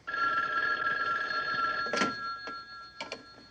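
A telephone bell rings steadily in an indoor room, a sustained metallic trill that cuts off, followed by a few brief knocks or handling sounds.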